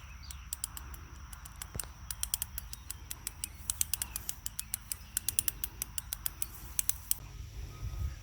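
A 5/8 wrench tightens high tensile fence wire in a quiet outdoor spot, giving a long run of small, irregular metallic clicks and creaks, faint and close.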